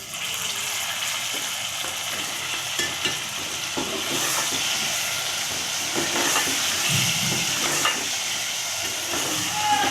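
Tomatoes frying in a pan with onions and potatoes, a steady soft sizzle and hiss with occasional stirring scrapes, close and moderately loud, no talking.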